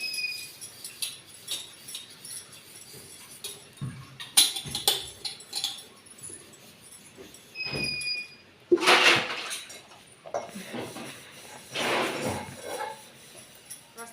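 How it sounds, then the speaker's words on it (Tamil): Intermittent clinks and clatters of metal and glass vessels being handled and knocked together while washing dishes, with bursts of splashing water in between. "இப்போ பாத்திரம் வளர்க்க போகிறேன்"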